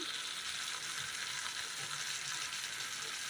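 Egg yolk poured into a hot pan for a Kerala curry sizzles steadily, a continuous close frying hiss with faint stirring and no talk.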